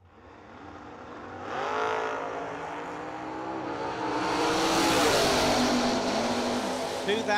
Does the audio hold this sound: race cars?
yes